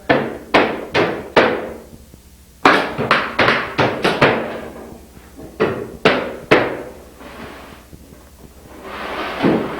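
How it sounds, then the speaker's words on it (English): Nails being hammered into the rafters and studs of a 12x16 barn frame, loud close sharp blows in quick bursts of several strikes with short pauses between. "so I'll try and talk in between the nailing"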